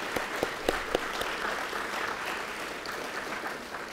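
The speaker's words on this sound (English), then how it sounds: "please join me in giving them a round of applause" Audience applause at a city address luncheon, a few distinct nearby claps at first, then a sustained steady patter of many hands.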